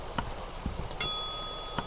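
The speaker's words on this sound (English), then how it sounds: "Let's ring the bell." A single bright bell ring in the video game Kentucky Route Zero, one clear ding with a long ringing decay after faint soft footsteps or shuffling.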